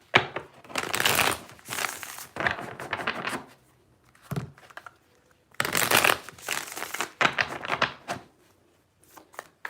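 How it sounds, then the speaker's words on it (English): Tarot cards being shuffled by hand come through in two bursts of quick papery riffling and rustling, close and fairly soft, with a short pause between them and no talking. "3 shuffles."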